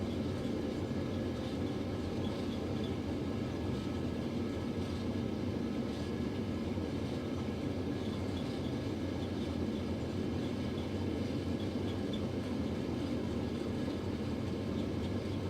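Steady broad roar of a Boeing 737 accelerating down the runway on its takeoff roll in Microsoft Flight Simulator, engines at takeoff power, a constant loud rumble with no breaks throughout.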